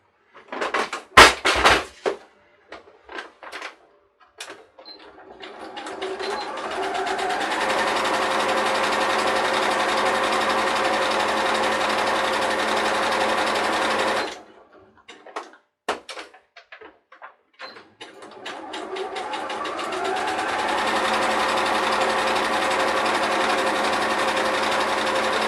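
A sewing machine stitches down the side and along the bottom of a zippered fabric pouch, a steady close mechanical whir in two long runs, each preceded by clicks and handling noises.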